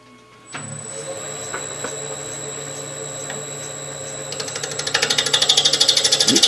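A bowl gouge cuts into wood on a spinning wood lathe, starting with a steady motor hum and building into a rhythmic, loud chattering scrape as the tool bites in.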